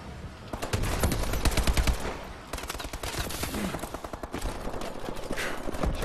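Rapid automatic gunfire in the video game Call of Duty Advanced Warfare, dense bursts of shots rattling almost continuously with brief lulls, loud and close amid other battle noise.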